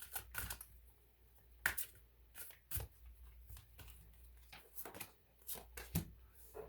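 Tarot cards being shuffled and drawn, a faint, close run of soft papery flicks and taps with uneven rhythm and no voice.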